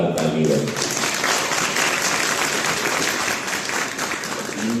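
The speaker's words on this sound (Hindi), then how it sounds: "मैं चाहूंगा इनके लिए जोरदार ताली हो।" An audience at a Bharat Express anniversary event claps in loud, continuous applause, with a voice heard briefly at the start and end.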